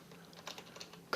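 Quick, light keystrokes on a computer keyboard while coding in Unity, a scattered run of soft clicks at close range, ending with a slightly louder tap.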